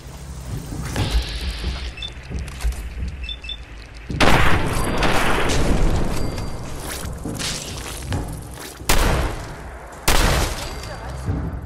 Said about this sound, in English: Swimming back to shore, we can take out our shotgun and blow them away.